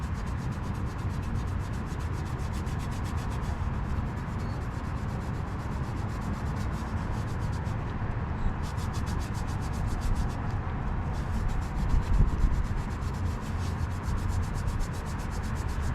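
A towel rubs polish into a chrome car exhaust tip with steady back-and-forth strokes, a close, continuous scrubbing and sanding-like friction sound with no talking.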